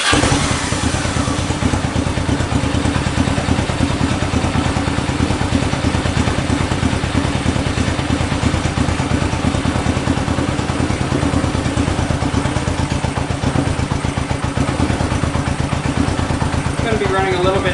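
A 1965 Honda CB77 Super Hawk motorcycle, running without air filters, idles steadily and close by, its even mid-pitched engine note and mechanical clatter continuous throughout with a voice talking over it.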